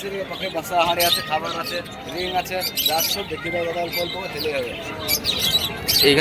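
Pet birds chirp and tweet in quick bursts at a busy pigeon and budgerigar market in Beldanga, Murshidabad, mixed with people talking nearby.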